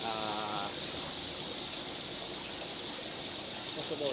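A fish pond pump pushes water around, giving a steady rushing, trickling flow close by, with a voice speaking briefly over it at the start.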